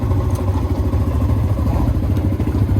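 A motorcycle engine drones steadily and loudly throughout on a ride up to Genting Highlands, close up, with a continuous low rumble and light mechanical clatter.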